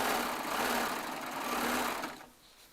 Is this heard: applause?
no